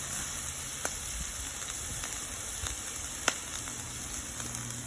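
Garlic sizzling and crackling steadily in hot oil in a pan over a fire pit, a constant close hiss with occasional sharper pops.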